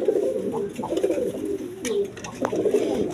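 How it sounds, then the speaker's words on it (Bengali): A pair of coloured Gorra pigeons coo softly at close range, low rolling calls repeating in a steady rhythm with small rustles and clicks around them. "দেখেন এক পেয়ার কালারিং গররা কবুতর"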